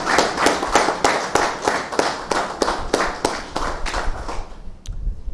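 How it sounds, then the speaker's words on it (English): Steady applause from a crowd, sharp claps blending into a dense patter that holds for several seconds before thinning out near the end. "Let's give all the participants a round of applause."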